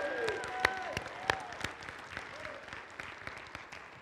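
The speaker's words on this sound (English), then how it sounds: "Oh, clap your hands, all you people." A church congregation at a worship and communion service claps together, a moderately quiet but steady roomful of hands with a few sharper individual claps and faint voices mixed in.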